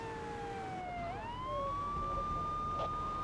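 A police car siren wails steadily in Grand Theft Auto III, its tone sliding down then settling into a sustained high whine, loud and close, with a brief chirp near the end and no talking.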